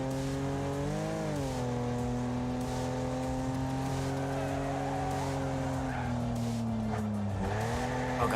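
A race car in the Wreckfest video game drives with a steady engine drone and long, sliding tire squeals as it understeers through corners, loud and continuous throughout.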